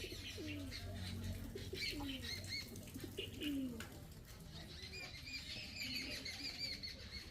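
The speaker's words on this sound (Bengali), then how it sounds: "এরকমভাবে পায়রাগুলো ডাকছে এখানে ওপরে বসে" Pigeons perched up on an old village mud house beside a cowshed coo faintly and repeatedly at a distance, with a few small chirps among the low, rolling calls.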